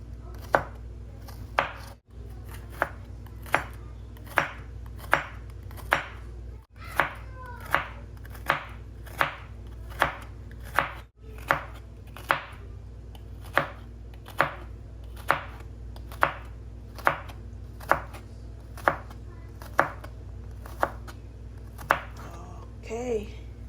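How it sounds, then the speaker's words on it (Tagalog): A knife slicing a small dark green bitter gourd thinly on a cutting board, giving crisp regular chops about once a second, close and clear, with a few faint cat-like meows in the background. "Iwain ko lang ng manipis."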